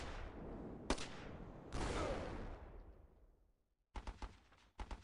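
A bursty war video game firefight: a sharp shot, then a long roaring volley from a deployed MG nest fades out. A pause follows before a few more quick, close bursts of gunfire.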